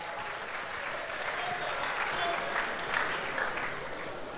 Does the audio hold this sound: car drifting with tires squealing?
no